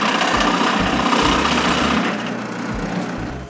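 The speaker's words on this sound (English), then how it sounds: "On each wall support, I drill a chamfer hole so I can fix it to the wall." A drill bores a chamfer hole into a wooden wall support, a loud close whirring grind that runs continuously for several seconds, easing slightly toward the end.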